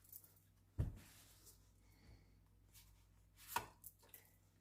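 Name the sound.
cutting a deck of oracle cards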